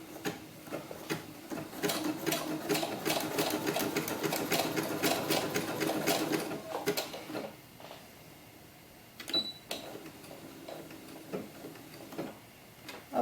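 A sewing machine stitches small doll gloves in a fast, loud mechanical rattle for about seven seconds, then stops, leaving a few soft clicks and handling noises up close.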